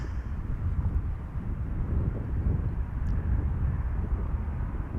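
A British Airways airliner arriving at Amsterdam Schiphol from London Gatwick gives off a low, steady rumble of jet engine noise at moderate distance, continuous and fairly quiet, with no voices.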